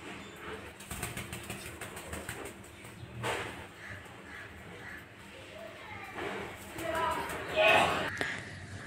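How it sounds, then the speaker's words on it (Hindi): Pigeons flap their wings and coo near a family home, with soft fluttering bursts and a louder flurry of wingbeats toward the end, partly under people talking. "कबूतर"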